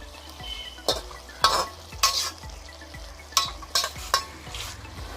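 Food shallow-frying in a pan for pepper chicken shawarma gives a constant low sizzle, broken by about seven loud scraping stirs at irregular intervals, heard up close with no talking.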